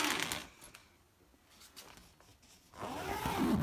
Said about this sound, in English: Little zipper.